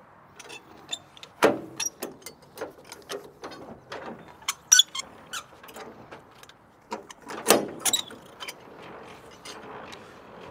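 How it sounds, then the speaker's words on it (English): Semi-trailer landing gear cranked up by hand after coupling to a tractor's kingpin, a run of sharp metallic ratcheting clicks and clunks in an irregular rhythm, close and moderately loud, with no talking. "Now we're gonna raise the landing gear up."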